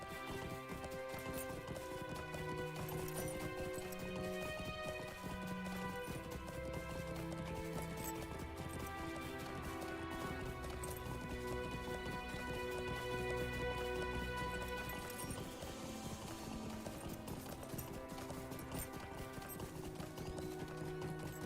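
Horse hooves galloping in the Lord of the Rings Online video game, a steady drumming clip-clop that runs without pause under loud layered game music.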